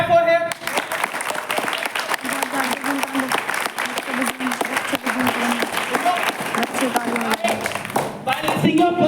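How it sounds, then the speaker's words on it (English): Applause from a school audience for a student debater in a debate on India's Lok Sabha elections, steady scattered clapping that lasts several seconds with voices talking over it. "Clap for him."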